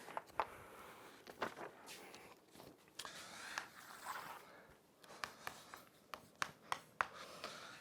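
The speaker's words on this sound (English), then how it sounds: "So let me write down this as a definition." Handwriting a definition by hand during a knot theory lecture, faint scratchy strokes and sharp taps of a pen or chalk in irregular bursts, quiet and close with no talking.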